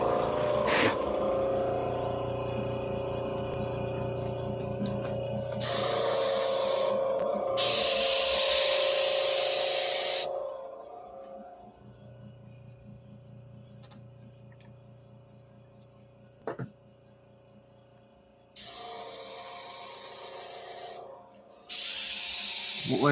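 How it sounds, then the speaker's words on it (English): Spray paint is sprayed onto a comic book sketch cover in several separate hissing bursts of a few seconds each, with quieter studio hum and faint ticking between them. "when I spray it on, it's going to be yellow"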